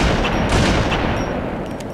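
Rapid weapon fire in the video game Halo 2 as a full clip is emptied, a dense, loud volley of overlapping shots that runs throughout without pause.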